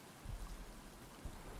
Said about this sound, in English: Fortunately, it's raining now.